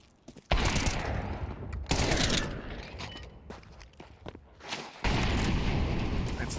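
Rifle fire from a Counter-Strike match in a BLAST Bounty Malta esports broadcast, the A1-S emptying one magazine in loud dense bursts and rapid volleys, with pauses between the salvos.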